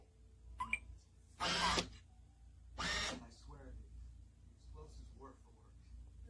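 A DESLOC B200 smart deadbolt lock unlocking, with two short, loud motorized whirring bursts close by, separated by a pause and followed by quieter clicks and faint talking.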